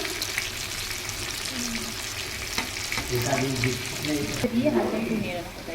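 Chopped tomato and chili powder frying in oil with a little sugar in a pan, sizzling steadily with stirring scrapes and clinks growing busier toward the end.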